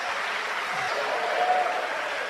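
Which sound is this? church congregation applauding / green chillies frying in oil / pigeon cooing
church congregation applauding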